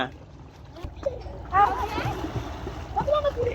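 Someone swimming in a river, splashing and churning water up close while children's voices talk and call out over it.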